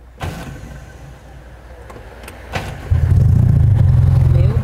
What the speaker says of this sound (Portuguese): Mas vou abaixar o vidro aqui pra entrar.